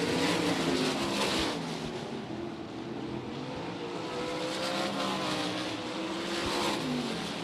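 410 sprint cars roaring around a short-track speedway during hot laps at the Short Track Nationals, a loud continuous engine drone with rising and falling revs as cars pass, no talking.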